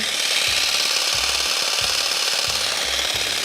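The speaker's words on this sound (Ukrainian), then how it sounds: "Ось так, ось так дуже гучно у нас сьогодні в студії він працює." Cordless battery-powered garden shears (DT1118) running indoors, loud rapid rasping buzz with repeated short pulses as the trigger is worked, close up and without talk.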